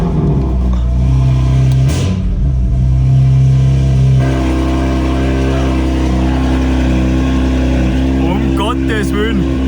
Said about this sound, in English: Let's fire up the car and see how it sounds with the exhaust.